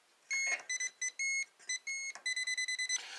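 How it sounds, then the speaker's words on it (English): An inductive voltage tester held near live double-pole wiring for an electric baseboard heater thermostat gives a run of sharp electronic beeps, first in irregular bursts and then in a quick, steady pulsing series, close and clear with no talk. "when this thing goes beep, beep, beep, that means voltage is present"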